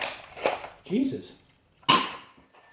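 A modified Nerf Retaliator blaster with the air restrictor removed and an upgraded spring fires a dart, giving a sharp snap followed by a priming clack, then a second loud crack near the end, with brief talk in between.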